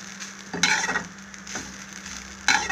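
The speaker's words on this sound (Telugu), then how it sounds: "కొబ్బరిని వేపుదామండి" Fresh grated coconut fries lightly in a pan for a curry, a soft steady sizzle broken by three scraping stirs of a spatula, close and without talk.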